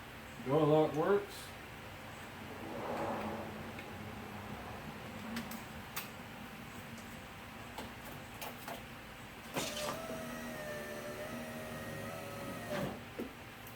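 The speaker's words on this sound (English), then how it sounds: "Window motor goes up," An electric power window regulator motor runs inside the door of a 1988-1998 GM truck, giving a steady whirring hum in the second half after a brief voice and some clatter near the start.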